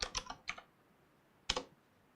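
Keys on a computer keyboard are tapped in a quick cluster of clicks, then after a short gap a single faster burst, close and fairly crisp with no talking.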